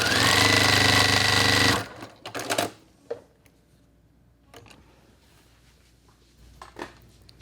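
A sewing machine stitches a quilt block in a rapid, loud burst for a couple of seconds, then stops, followed by a few soft clicks and handling knocks.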